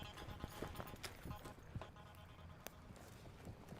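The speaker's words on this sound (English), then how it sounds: "we are hearing footsteps right now" Footsteps at a reported haunted site on a hill, heard as a series of soft, irregular thuds spread through the clip over steady background noise.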